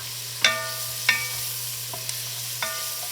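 Onion and celery stirred together in a pot for beef stew, heard as a few separate scraping and clinking strokes of a utensil against the pot, with a steady low hum beneath and no talking.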